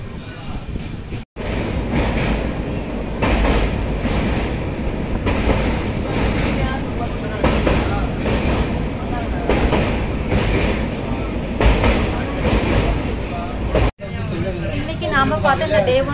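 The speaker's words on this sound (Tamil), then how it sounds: "நம்ம ட்ரெயின் பாத்தீங்கன்னா நெல்லூர் ஸ்டேஷன்ல இருந்து கிளம்பிடுச்சு" A passenger train pulls out of Nellore station in India, its continuous rumble and carriage clatter loud and close, with people talking and general chatter over it.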